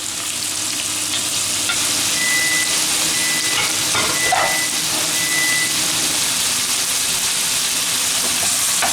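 Marinara seafood mix frying in a pan with onion and garlic for paella, a constant close sizzle with occasional stirring scrapes, loud and steady with no talking.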